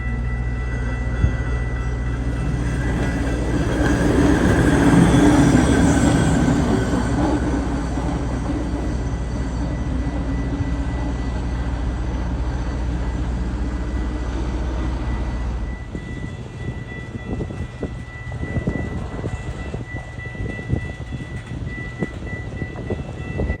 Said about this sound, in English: minutes later, a Metra train roared through with 502 at the end